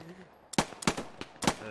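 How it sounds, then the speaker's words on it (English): An MG40 machine gun in the WWII shooter Post Scriptum fires several loud, sharp bursts in quick succession, close and punchy, with brief gaps between volleys. "Oh shit, that's an MG40!"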